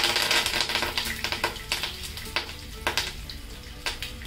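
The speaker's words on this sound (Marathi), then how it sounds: "जिरे, जिरे मोहरी आहे ना व्यवस्थित चांगलं फुलू द्या" Cumin and mustard seeds crackle and sizzle in hot oil for a tempering with curry leaves, a steady loud frying hiss broken by sharp popping bursts.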